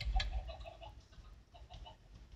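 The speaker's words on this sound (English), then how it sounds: "I'm so full of chickens" Minecraft Sky Wars chickens clucking in a quick burst of short, close clucks, fading into softer scattered clucks over a low background rumble.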